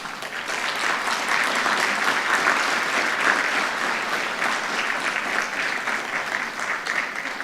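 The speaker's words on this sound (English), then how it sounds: "Kindly stand up for you to be applauded." An indoor audience applauds staff at a gathering, a dense and sustained round of clapping that stays fairly loud and even throughout, with no speech over it.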